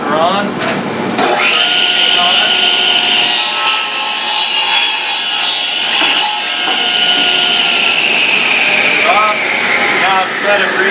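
A radial arm saw with a dust collector running is pulled through a wood board in a left-handed cut, giving a loud, sustained whining cut under continuous machine roar for most of the clip.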